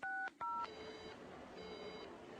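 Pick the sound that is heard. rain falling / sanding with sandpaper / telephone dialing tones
telephone dialing tones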